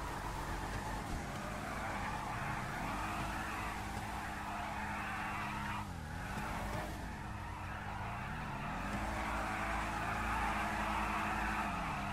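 Muscle car in a GTA game revving hard during a burnout to warm its tires, a steady loud engine roar with tire screech held throughout, pitch rising and falling with the throttle.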